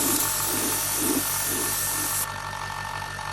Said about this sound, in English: Spraying a bit of metallic black here.